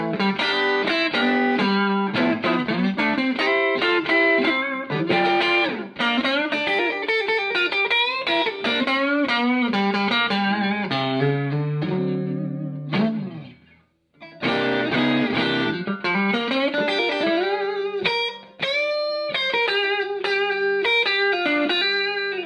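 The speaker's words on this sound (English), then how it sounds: "Exactly how I would dial a Texas Overdrive sound in" Electric guitar played through a Carr Skylark amp with Texas blues overdrive, loud and continuous, with bent lead phrases and chords that pause briefly before the playing resumes.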